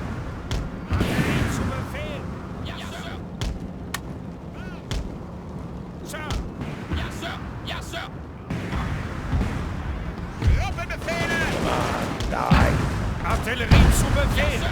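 Canister volleys from field artillery in Napoleon: Total War crack out repeatedly amid a busy battle din, sharp booms scattered across the stretch with speech layered over the gunfire.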